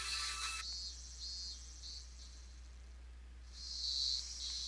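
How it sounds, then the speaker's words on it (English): High-pitched insect buzzing rises and fades in waves over a steady low hum, a shrill chorus that swells loudly near the end. "There's a chorus of cicadas."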